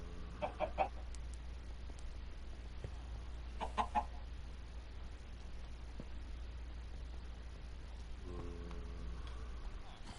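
A few short Minecraft chicken clucks in small bursts, fairly faint, over a steady low background hum with long quiet gaps between them.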